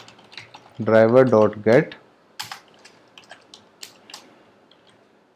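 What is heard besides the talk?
typing code on a computer keyboard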